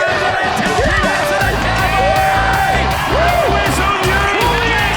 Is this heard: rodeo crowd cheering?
yes